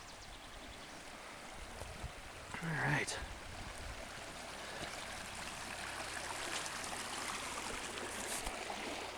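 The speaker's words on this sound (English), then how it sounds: "There's even a little trickle" A small creek trickles beside a spring hiking trail in Cuyamaca Rancho State Park, Southern California, making a steady, soft rush of running water, with a person briefly speaking partway through.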